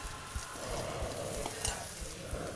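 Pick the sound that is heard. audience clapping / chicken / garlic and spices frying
garlic and spices frying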